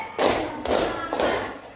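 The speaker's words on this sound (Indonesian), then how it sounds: "tepuk dua, tepuk tiga," A classroom group claps in unison on a teacher's count, three strong, evenly spaced claps close by with brief ringing decays between.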